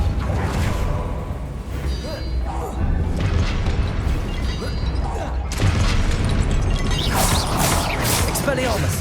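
A Repulso spell cast in the video game Hogwarts Legacy bursts out as a heavy booming blast, followed by a second crashing surge amid continuous combat noise and game music.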